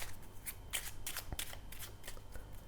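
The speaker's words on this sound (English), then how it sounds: "Now they will take the cards and give the cards a mix" A deck of playing cards being shuffled up close during a card trick, with a run of quick riffling and snapping bursts in an otherwise quiet room.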